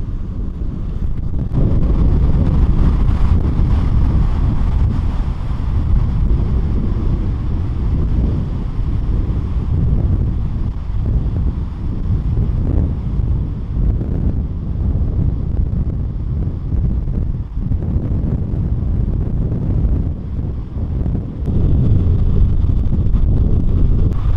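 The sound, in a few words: strong wind at the beach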